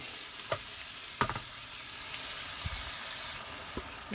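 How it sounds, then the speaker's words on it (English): A pan of curry with mince simmers and sizzles softly at a camping van stove, making a low, steady frying hiss broken by a few sharp clinks and stirring taps. "Let that simmer away for a bit."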